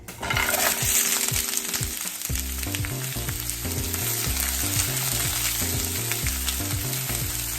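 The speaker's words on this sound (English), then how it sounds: "Now we're just gonna add your frozen vegetables right into the pan." Frozen vegetables hit hot sesame oil in a pan and sizzle loudly and steadily, with a repeating mechanical hum underneath and no talk.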